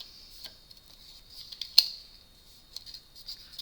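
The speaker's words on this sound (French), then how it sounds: "bien insister avec votre plioir pour avoir de jolis plis bien nets" A bone folder scores fold lines into paper for a pen case: quiet, sporadic scraping clicks with one sharp snap midway, and no voices.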